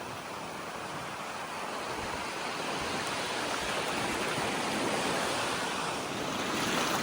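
Ocean surf breaking along a beach at Point Gibbon or Tumby Bay, South Australia, a steady close roar of washing waves with wind buffeting the microphone, continuous and fairly loud throughout.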